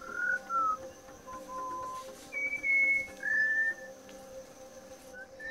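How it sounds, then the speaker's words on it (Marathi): A Malabar whistling thrush in forest near Kolhapur sings a series of clear, human-like whistled phrases, some rising and some falling, with pauses between them over a faint background hum of insects. "अशातच एखादी सुरेल शीळ ऐकू येते. कोणी एखादी व्यक्ती सुरेल शीळ घालत आहे असा भास होतो. हा आहे मलाबार व्हिसलिंग थ्रश."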